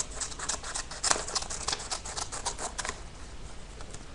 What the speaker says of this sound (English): keep on cutting it until you get right to that end of the paper